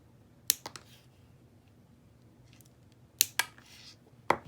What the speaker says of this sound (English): I just need to snip these connectors off of here because I won't be using them.